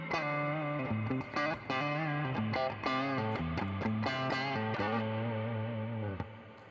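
An electric guitar runs through a JHS Whitey Tighty mini compressor pedal with reverb, playing a clean, sustained melodic line of ringing notes and chords that flow continuously, then fade into a reverb tail.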